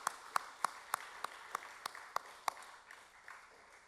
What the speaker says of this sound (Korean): 우리 박수로 화답하겠습니다.